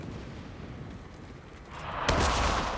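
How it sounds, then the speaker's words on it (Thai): Landmine detonating in a video game: quiet rumbling background, then a sudden loud blast that lingers as a rolling boom to the end. "อืมมคนเหยียบระเบิด"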